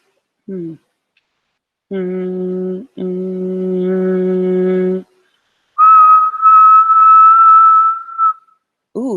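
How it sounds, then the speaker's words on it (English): A person whistles in short bursts: lower sustained tones, then a clear high-pitched whistle held for a couple of seconds, with brief voice sounds at the start and end. "I had to whistle in order to create a high frequency wave"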